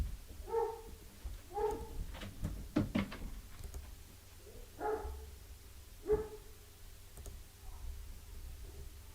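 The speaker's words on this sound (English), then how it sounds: "Those are my dogs." Dogs bark indoors in short, separated bursts, moderately loud but a little distant, with soft clicks and knocks between the barks.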